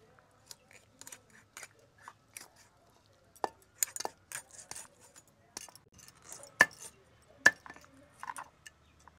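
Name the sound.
cutting tengra fish with a boti blade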